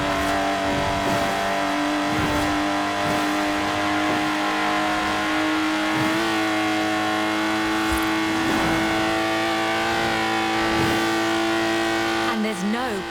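A Lotus Exige engine drones steadily in Forza Horizon 4, holding a sustained high whine near and loud as the car drives, with a voice talking over it.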